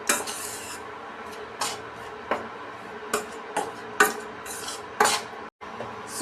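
Wheat flour is stirred and roasted in a pan over a low flame, with sharp, irregular scrapes and clinks of a spoon against the metal every half second to second over a soft background.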